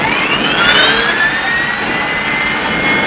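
A civil helicopter used for accident-to-hospital transfers roars loudly and steadily with a high turbine whine, close and continuous with no voices.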